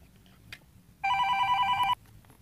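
A telephone rings once with a bright electronic warble, a single burst of about a second, clear and fairly close against a quiet room.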